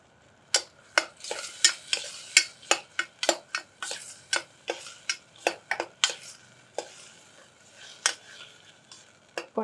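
Millet rava roasting with salt and turmeric in a pan, a steady series of sharp spatula scrapes and taps against the pan at an irregular rhythm, close and distinct over a faint dry sizzle.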